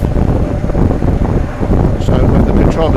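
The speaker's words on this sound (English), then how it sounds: "gale force winds, as I'm sure everyone's aware" Strong gale-force wind buffets the microphone in a steady, loud roar with gusty swells throughout, a low rumbling rush that never lets up.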